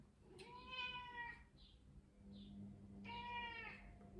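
A cat meows twice, long drawn-out cries separated by a pause, fairly close with a low hum underneath.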